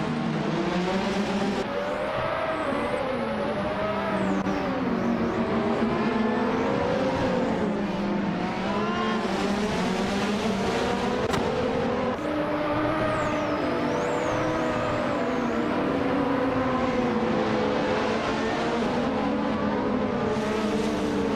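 Race cars racing in a game, engines droning and whining continuously and loudly with shifting pitch as cars pass and change gears, no pauses throughout.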